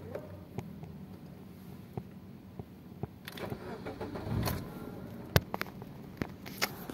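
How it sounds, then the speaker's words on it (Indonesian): A car with a lit check-engine warning and a faulty ECU is started: clicks and a short cranking whir come first, then the engine catches and settles into a quiet idle. Sharp clicks and taps come close by, and no one speaks. "kita akan coba nyalain dulu untuk mesinnya"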